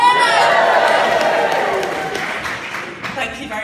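Audience at a Sunday Assembly gathering applauding, loud sustained clapping from a crowd that gradually tapers off.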